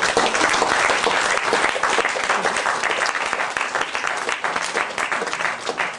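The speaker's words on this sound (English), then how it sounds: "That was not what you call spontaneous applause, was it?" A crowd applauds steadily and loudly throughout, dense clapping with no pauses and no voices standing out.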